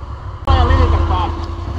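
An off-road ATV engine suddenly bursts into a loud, close rev after a short lull, holding a rough throttle roar that slowly eases, with a voice speaking over it.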